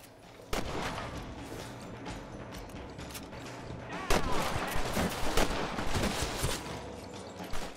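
Gunfire in the Western video game Red Dead Redemption: dense, sustained bursts of shots crackling throughout, growing heavier and more rapid in the second half, loud and close, with a voice faintly present in the mix.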